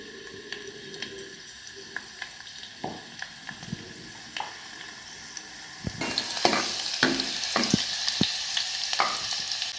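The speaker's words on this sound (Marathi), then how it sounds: "ऑइल गरम झालं की लगेच लसूण टाकून घ्यायचं आहे" Garlic goes into two ladles of hot oil, giving a steady close sizzle with scattered scrapes and clicks that turns much louder and brighter about two-thirds through.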